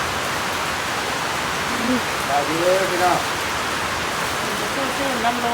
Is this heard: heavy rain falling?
yes